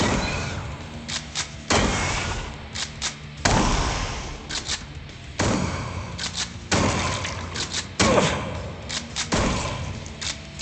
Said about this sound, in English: Oh yeah, the good old shotgun.